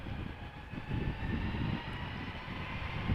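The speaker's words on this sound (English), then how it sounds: "Here we have an A320 to London Gatwick." An Airbus A320 bound for London Gatwick rumbles steadily at Amsterdam Schiphol Airport, a loud, sustained jet engine roar with broadband hiss and no voices.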